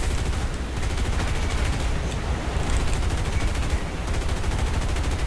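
Aircraft machine guns chatter steadily in War Thunder, a continuous rapid rattle over a constant engine roar, loud and unbroken throughout.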